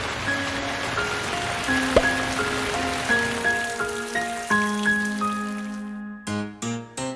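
Rain falls steadily as a broad hiss under a gentle melodic tune with sustained tones, ending in a few short, louder musical chords.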